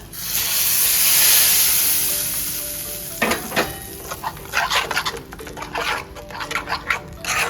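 Mustard seeds, red chili and asafoetida hit hot oil with a loud rushing sizzle that settles into rapid crackling and popping as the tempering fries.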